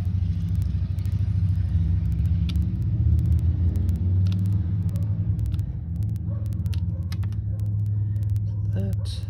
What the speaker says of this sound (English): And here comes some noisy motorcycles.